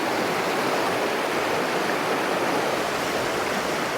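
Creek rapids rush near an old spillway, with loud, steady, close-up water noise that runs unbroken throughout.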